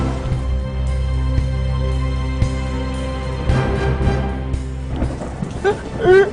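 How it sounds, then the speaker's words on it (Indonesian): A thunderstorm with steady rain plays as a background scene in an Indonesian TV drama: a continuous low rumble and a hiss of rainfall throughout, with some faint voice-like sounds rising toward the end. "Mana hujan lagi."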